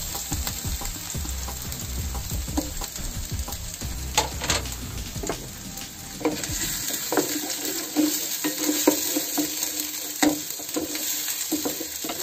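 Green chili, ginger and garlic sizzle in a hot pan over a medium flame with a dense close frying hiss and frequent sharp stirring clatters. The sizzle quiets midway, then light scraping and crackle continue.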